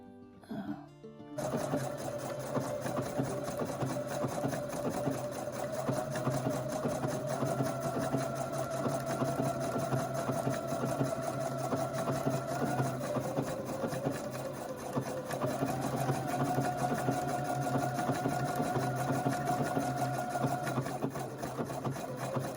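Sewing machine run by a foot pedal, a steady loud mechanical hum and rapid needle clatter starting after a brief click and continuing without pause for about twenty seconds, with a slight pitch shift partway through.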